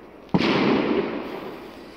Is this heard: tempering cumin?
no